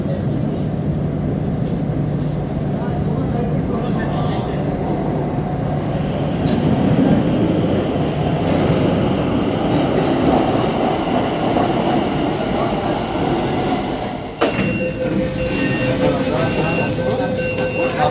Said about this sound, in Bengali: ওই যে তোমরা দেখতে পাচ্ছ মেট্রো আসছে।